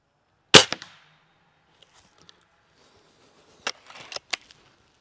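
A Cometa Fenix 400 air rifle of about 24 joules fires a sharp, single crack, followed by a few quieter mechanical clicks and snaps.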